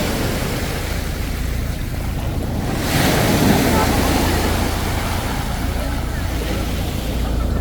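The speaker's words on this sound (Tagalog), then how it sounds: "Lakas ng alon!" Strong ocean surf crashes continuously, with heavy wind buffeting the microphone and a louder surge of waves midway through.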